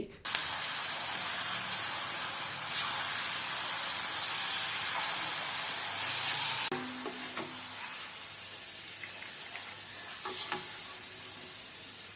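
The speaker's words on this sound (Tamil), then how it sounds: "ஸ்லைஸ் பண்ண ஏர் பொட்டேட்டோவை எண்ணெயில் போட்டு பொறிச்சு எடுத்தால் கரகர மொறு மொறு ஏர் பொட்டேட்டோ சிப்ஸ் ரெடி" Sliced air potato frying in hot oil gives a dense, steady sizzle and hiss, loud at first and then slightly quieter as it settles, with occasional stirring clinks and no talking.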